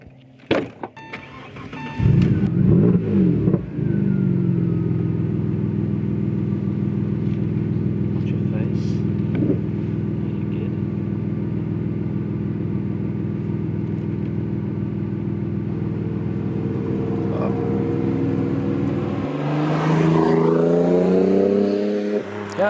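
Porsche 911 996 Carrera C2 from 2001, swapped to an Audi 2.7T engine, idles with a steady deep rumble, then gets a short rev near the end; people talk over it.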